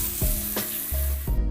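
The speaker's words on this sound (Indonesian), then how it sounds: "panaskan sedikit minyak goreng. Kemudian Kak Yun tambahkan bumbu yang sudah dihaluskan" Ground shallot, garlic, candlenut and nutmeg paste sizzling loudly in hot oil, a close, continuous frying hiss with a few sharp pops and stirring scrapes.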